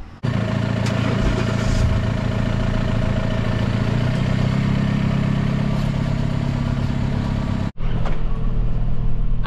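A tractor engine runs steadily and loudly up close, a continuous rumbling drone with rattling clatter, briefly cutting out near the end before resuming.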